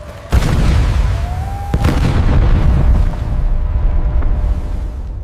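A sharp, heavy blast goes off in a coal mine in Raniganj, then a second boom follows a moment later, leaving a deep rumbling roar that lingers and slowly fades.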